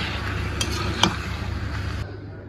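Boiled elephant foot yam and potato stir-fried in a pan, giving a steady close sizzle with scraping strokes and one sharp utensil clink partway through, with no voices.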